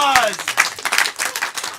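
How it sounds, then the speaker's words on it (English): An audience at a live improv comedy show applauds, a short burst of dense clapping mixed with cheering voices. "Give yourselves a round of applause."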